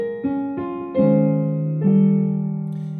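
Two measures of a jazz tune voiced in drop 2 chords: four ringing chord strikes spaced unevenly, each sustaining into the next, close and clear with no talking.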